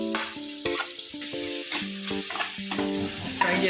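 Onions frying in a pan until golden brown for a chicken fry, a steady close sizzle with intermittent scraping and stirring knocks of a spatula, alongside steady tonal hum in the kitchen.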